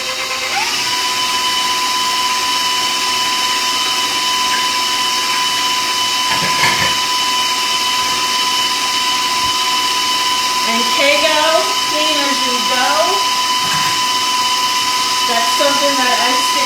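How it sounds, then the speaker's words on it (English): Electric stand mixer beating dough at medium speed: a steady, loud motor whine with a constant high hum, with occasional bumps and a few brief spoken remarks over it. "And then I'm going to crank up that speed and let it mix for about 2 minutes on medium speed."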